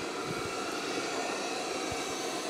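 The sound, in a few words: OKP Life K5 robot vacuum cleaner running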